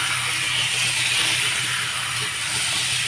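Besan batter hits hot oil on a tava griddle with a loud, steady hiss and sizzle that stays constant, with no voices.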